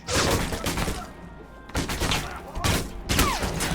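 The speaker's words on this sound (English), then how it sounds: "Don't throw grenades inside of a mansion!" Grenade blasts inside a mansion in Alpha Protocol: several loud broadband bursts with crackling debris, spaced roughly a second apart and each fading into a rumbling tail.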